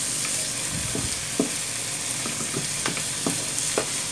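Chopped onion fries in a pan with a steady, close sizzle, broken by a few scraping stirs of a spatula and no talking.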